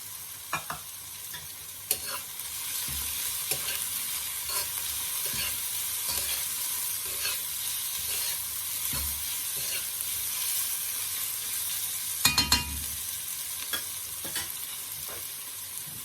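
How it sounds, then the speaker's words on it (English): Scallions sizzle steadily in a hot pan while a utensil stirs them, scraping in occasional louder bursts, during curry shrimp preparation with coconut milk. "I'll start to add my scallions."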